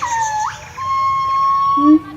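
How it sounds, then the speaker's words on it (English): A wild peak gibbon at a zoo gives high-pitched calls: a sliding whoop, then a long steady tone, and a lower short note at the end, heard fairly close with people talking nearby. "That's a wild peak gibbon, and his sound's a lot higher."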